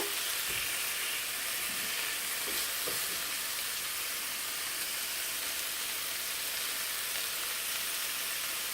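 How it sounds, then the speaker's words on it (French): Minced meat with tomato paste and salt sizzling in a pan for a stuffed potato pie, a continuous bright frying hiss with occasional soft scrapes of stirring, steady and close. "je mélange bien jusqu'à la mi-cuisson de la viande hachée"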